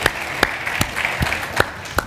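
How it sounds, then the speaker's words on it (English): Scattered audience clapping at a business conference fireside chat, with about six distinct sharp claps spaced unevenly over two seconds against a quiet room background. "So give them a round of applause, please."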